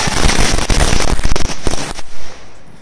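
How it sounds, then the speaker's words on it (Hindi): A chatai bomb string of firecrackers explodes during Diwali in a loud, rapid, continuous crackle of sharp pops, close by, dying away after about two seconds into a few scattered bangs. "we are nearing the end of our Diwali celebration and this is the चटाई बम"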